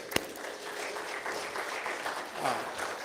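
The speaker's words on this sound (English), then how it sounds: "let's give a round of applause for them" A church congregation seated in a sanctuary applauds steadily, a dense, moderate wash of clapping throughout with one sharp louder clap near the start.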